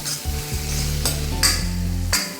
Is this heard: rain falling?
no